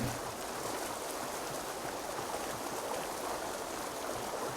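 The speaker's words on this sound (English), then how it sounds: "Let's hop in the river here." River water flowing in Assassin's Creed Valhalla, a steady broadband rushing and gurgling of the current, fairly close and continuous, without talk.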